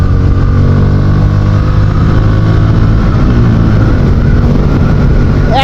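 A Bajaj Pulsar N160 motorcycle engine revs up close, a loud, steady throbbing drone that holds throughout and climbs sharply at the very end.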